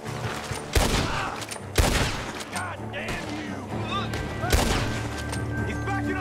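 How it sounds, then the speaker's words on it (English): Red Dead Redemption 2 gunfire coming from a barn: several sharp, loud shots crack at irregular intervals over a busy background of rumbling and scattered effects. "The gunshots are coming from that barn."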